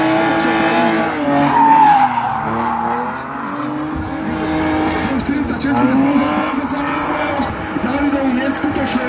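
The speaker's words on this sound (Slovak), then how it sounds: "neskutočné, čo tieto dve auta robia" Race cars skid and scream around a hill climb course, engines revving with wavering pitch and tires squealing, loud and close, while a commentator talks over the action.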